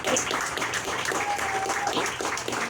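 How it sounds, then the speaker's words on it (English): An audience applauds the hosts inside a historic brew house, a continuous even patter of many hands at moderate loudness, lasting the full few seconds with no talk over it. "a round of applause for our hosts and their hospitality"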